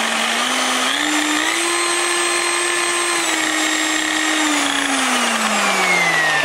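A Black & Decker car buffer polisher runs locked at low speed, giving a steady close electric motor whine. Its pitch rises slightly, holds, then sags toward the end, with no voices.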